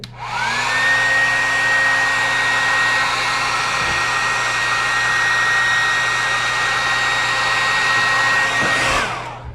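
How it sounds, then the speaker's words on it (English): A handheld blow dryer runs steadily and loud for about nine seconds, drying a lace frontal wig, its whine starting up and cutting off at the end with no talk. "you can take the blow dryer and just blow dry it"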